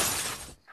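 Glass shatters in a single loud crash that fades quickly, followed by a faint tinkle of falling fragments.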